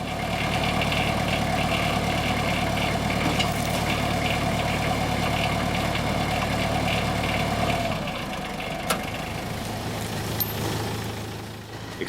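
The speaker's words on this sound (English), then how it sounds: "Running the tractor just above idle and ensuring the winch's PTO shaft has the lowest possible vertical and horizontal angles helps from breaking equipment" A tractor runs just above idle to drive a skidding winch's PTO shaft during small-scale logging, giving a steady, close, continuous engine drone that shifts lower and thins out in the last few seconds, with no talking.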